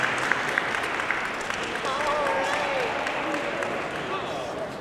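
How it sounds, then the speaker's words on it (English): Audience applause for Matt Bergeron and his crew at an SFU arts performance, steady and dense throughout, with faint voices and a few cheers mixed in under the clapping. "One more round of applause for Matt Bergeron and his crew."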